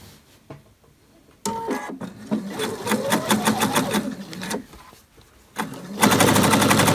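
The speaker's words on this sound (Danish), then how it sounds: "Og så syr jeg en rynketråd mere." A sewing machine set to a long stitch length runs a gathering thread through fabric, bursts of rapid rattling stitches separated by short pauses, loud and close, ending in a fast continuous run.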